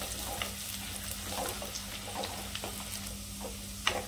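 Onion fries with masala in a pan for Kolhapuri misal, a soft continuous sizzle broken by light spatula scrapes and small taps, with one sharper clink near the end.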